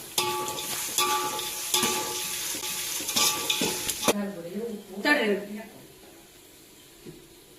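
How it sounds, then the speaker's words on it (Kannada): Crushed garlic frying in oil in a pan, with a dense crackling sizzle and sharp spoon strikes against the metal, then the sizzle drops away and a voice speaks over quieter background noise. "ಬೆಳ್ಳುಳ್ಳಿ ಹಸ್ಕಲ್ ಪರಿಮಳ ಹೋಗಲ್ಲಿ ಹುರ್ಕೊಂಡ್ಬಿಟ್ರೆ ಸಾಕು"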